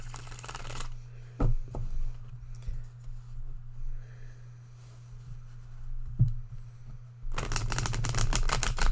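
A deck of cards is riffle-shuffled for a card reading, two loud crisp bursts of rapid fluttering clicks at the start and end, with soft handling noises and a low steady hum between.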